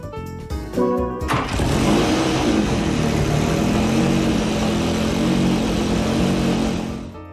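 The Jaguar XJ220 in the video game Gran Turismo 6 fires up after a few clicks and holds a loud, steady engine roar, revs rising and settling over several seconds.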